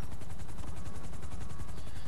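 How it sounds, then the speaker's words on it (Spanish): A helicopter in GTA V Online gives a loud, steady rotor chop with a fast rhythmic thudding over a constant engine roar. "Mira, ahora apareció un helicóptero solamente"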